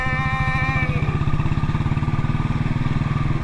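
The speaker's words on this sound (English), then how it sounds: "Riding my motorcycle all alone." A motorcycle engine runs steadily with a throbbing, pulsing rumble while riding on a road in South India after rain, loud and constant throughout.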